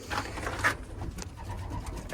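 Racing pigeons coo inside their loft, with soft throaty calls near the start and quieter rustling and faint movements after, with no talking.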